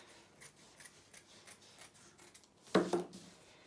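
Scissors cut through folded fabric for a face mask, with quiet rubbing and handling, then one louder, sharper snip near the end; no talking.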